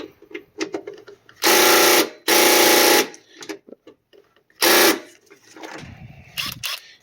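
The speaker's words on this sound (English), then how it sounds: "So 10 millimeter, we'll remove the bolts with the impact" An impact wrench removing 10 mm bolts on a 200 Series Land Cruiser LX570 battery tray fires in three loud, sharp bursts, two back-to-back and one later, separated by quieter clatter and handling noises.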